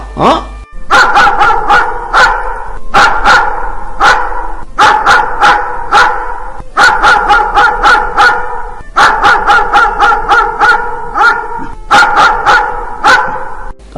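Several dogs bark loudly and close by, firing rapid volleys of barks in repeated rhythmic bursts separated by short pauses over about fourteen seconds.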